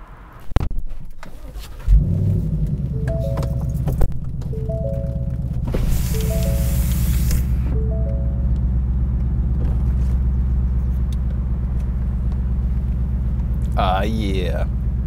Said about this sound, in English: Let's take it out for a test spin.